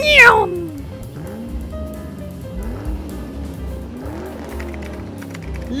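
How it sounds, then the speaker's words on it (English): A cat meows loudly and close at the start, then lets out a few softer, drawn-out mews with quiet pauses between them. "Meow."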